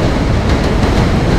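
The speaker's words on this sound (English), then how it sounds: "or just on this bridge recording this train" Recorded from a bridge, a passing train makes a loud, steady broadband roar and rumble that fills the whole recording with no break and no voices.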